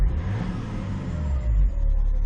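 Turbocharged M57D30 diesel in a BMW X5 E70 runs steadily with a low engine rumble and a thin, high turbo whistle rising over it, close and continuous with no talk.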